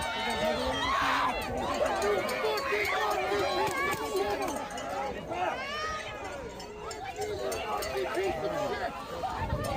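A large crowd of protesters fills a public roadway, voices babbling and calling out continuously at close to middle distance, with shouts rising over a steady hubbub throughout.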